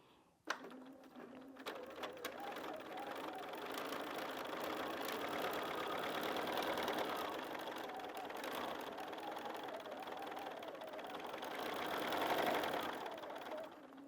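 Free-motion quilting on a sewing machine with a BSR stitch regulator gives a steady mechanical whir and rapid stitching hum that rises and falls in speed, faint and close, with no talk.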